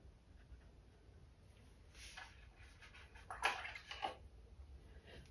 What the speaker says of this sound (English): Just rinsing some of that excess paint out of my brush so that my brush doesn't get ruined